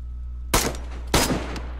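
Two sniper rifle shots in the video game DayZ, loud sharp cracks about half a second apart over a steady low hum, with a fainter third pop trailing after.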